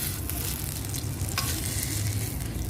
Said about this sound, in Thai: นำกะปิลงไปทอดต่อเลยค่ะ ทอดให้หอมดีเลยนะคะ